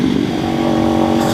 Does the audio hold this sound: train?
no